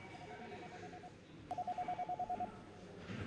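Office phones in the visual novel Eve New Generation trill with a fast pulsing electronic ring, starting halfway through and repeating in quick even bursts over a low background hum.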